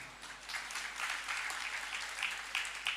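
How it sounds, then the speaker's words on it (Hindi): Audience applause at a Jain monk's sermon in Rishabh Vihar, Delhi, a steady wash of clapping with a few louder bursts near the end. "तुम ताली बजा रहे हो"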